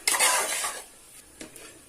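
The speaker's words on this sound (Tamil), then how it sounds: "இப்போ மூடி வச்சிடலாம் பாருங்க" A lid is set down on a cooking pan of egg and beetroot stir-fry, giving a short metallic clatter and scrape followed by a faint second clink, with no one speaking.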